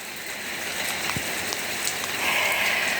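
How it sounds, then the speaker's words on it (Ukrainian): Steady rain falling outdoors, a constant close hiss of drops hitting surfaces with no other sounds over it. "У нас іде дощ. Іде дощик."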